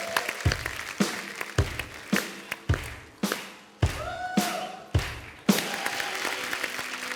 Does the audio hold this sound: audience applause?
yes